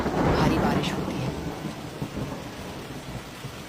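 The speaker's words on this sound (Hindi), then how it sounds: "अचानक आसमान पर काले बादल छा जाते हैं, बिजली कड़कती है, भारी बारिश होती है।" Thunder rumbles over heavy rain as dark clouds roll in above a village, a loud crack early on fading into a steady downpour wash.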